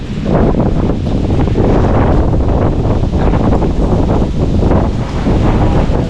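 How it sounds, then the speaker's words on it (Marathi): Strong wind roars outside a house in rural Konkan, India, buffeting the microphone in loud, continuous gusts that swell and ease without stopping. "बाहेर वारं बघा काय आहे थांबतच नाही"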